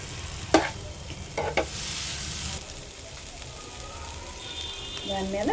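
Liver curry gravy stirred in a pan, a soft continuous sizzle with a few scraping strokes near the start, fairly quiet and close.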